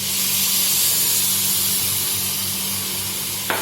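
A loud, steady hiss and sizzle fills the clip as water is added to hot sugar for caramel, with a brief sharp crackle near the end.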